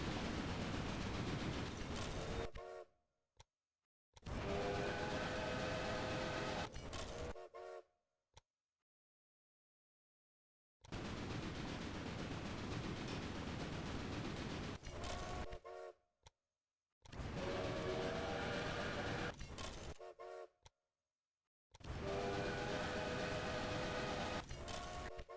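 Train horns blaring in the railway video game Railway Empire, loud sustained honking blasts in five long bursts separated by short silences, with no talking.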